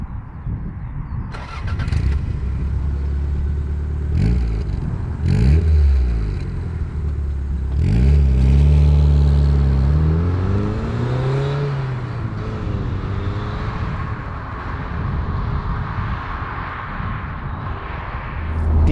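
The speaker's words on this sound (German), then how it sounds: "wir hören uns das mal an, wie sich halt vor 30 Jahren ein 2-Liter-Turbo-Vierzylinder angehört hat" 1991 Toyota Celica Turbo 4WD with a 2-litre turbocharged four-cylinder, started and driven, giving several rising revs and gear changes with a strong, fairly close engine note throughout.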